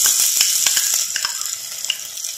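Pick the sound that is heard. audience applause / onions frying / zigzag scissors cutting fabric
onions frying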